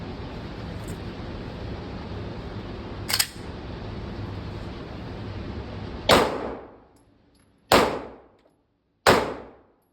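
A Glock 45 pistol fires four sharp, loud shots at irregular intervals, each cracking and then ringing out, the first over a steady background hiss and the last three into near silence.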